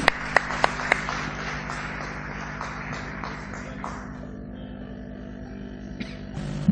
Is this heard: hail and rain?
no